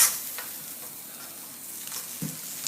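Beef being stirred in a hot pan with its juices, a soft continuous sizzle under scraping spoon movements, with a brief clatter near the end; close and fairly quiet, no talking.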